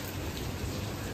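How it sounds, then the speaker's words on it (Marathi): Heavy rain falls steadily on a cold, overcast night around a house, a dense, unbroken hiss that stays close and loud with no voices. "मोठा पाऊस चालू झाला"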